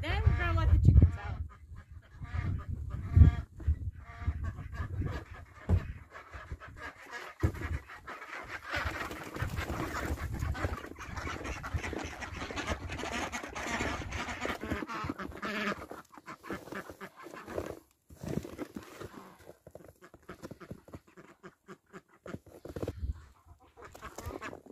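Ducks and chickens honk and quack in a busy barnyard chorus on a cold winter day, with some handling noise up close and a voice now and then.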